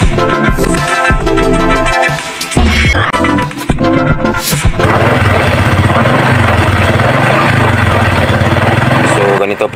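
Honda XRM 125 fuel-injected motorcycle engine with a knocking problem, first uneven, stuttering revs and then a loud, steady running drone with a rapid rattling knock close to the microphone.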